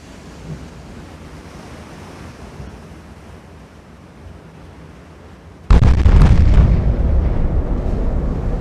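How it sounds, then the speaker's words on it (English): Distant rumbling sea and wind, then a sudden heavy boom as 10-inch naval guns fire in the video game Ultimate Admiral: Dreadnoughts, leaving a loud sustained roar. "Keep the 10-inch firing at the Scranton."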